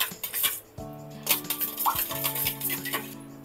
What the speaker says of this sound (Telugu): ఆయిల్ వేడెక్కేలోపు ఈ ఎగ్స్ని ఇలా బీట్ చేసి పెట్టుకుందాం.